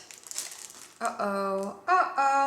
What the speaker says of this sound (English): I think I'm gonna get them all out of their plastic wrappers first